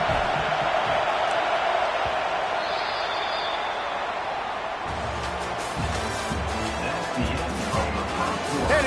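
Stadium crowd noise in a college-style football video game: a steady, loud roar of cheering fans throughout, swelling with louder bursts and whoops in the second half.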